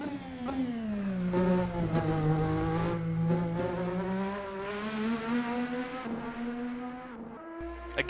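A formula race car in the VRC Formula NA 2018 racing sim roars loudly and steadily, its engine pitch sweeping up and down through gear changes, with brief tire squeal and a sharp cut near the end.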